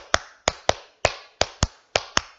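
A rhythmic clap routine in a high school history lesson on spices, with eight sharp, dry claps arranged in quick pairs and separated by brief gaps. The claps are close and clear against a quiet room.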